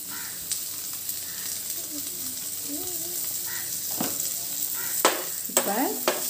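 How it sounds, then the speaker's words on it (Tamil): Paneer and vegetables fry in a pan for pulao, a constant sizzle under a few sharp scraping stirs toward the end, close by, with a faint voice in the background. "நல்லா ஃப்ரை பண்ணிக்கலாம் நல்லா ஒன்றோட ஒன்று ஒட்டாமல்"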